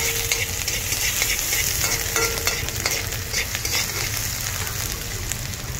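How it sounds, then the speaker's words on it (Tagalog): Ginger frying in a little oil sizzles steadily in a pan, a constant close hiss with occasional spatter pops and light scraping as it's stirred. "Okay, pabrown mo muna yung luya."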